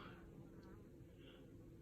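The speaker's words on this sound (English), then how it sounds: "Bees are going in here where it's rotten" Faint, steady buzzing of honeybees humming continuously in the background around a hive with a rotten floor in an apiary, with no voices.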